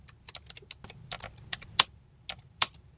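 Fingers tap on a computer keyboard while entering an Excel Power Query formula, a quick irregular run of crisp close clicks with two sharper, louder keystrokes, no speech.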